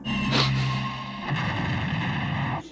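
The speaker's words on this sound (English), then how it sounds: "it really sounds like bakum when it explodes" A cartoon explosion in the original Dragon Ball anime booms out in one loud blast, followed by a sustained rumbling roar that cuts off near the end.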